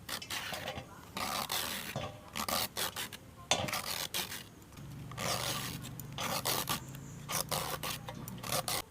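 Ridge gourd skin being peeled off by hand in a village kitchen, giving repeated close rasping scrapes in short bursts with brief pauses, no talking.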